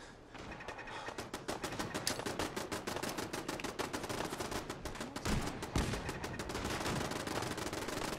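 Kismet kill box turrets in Fallout 4 firing in a long, dense burst of rapid automatic gunfire, loud and continuous with sharp repeated cracks throughout, no talking.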